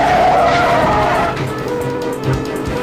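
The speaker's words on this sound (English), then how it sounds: "The teens slam into a stalled car and ricochet off another." A stolen car skids during a police chase, a loud sustained tire squeal over engine noise that fades into rough rumbling and scraping as it hits a stalled car, close and harsh with no talk.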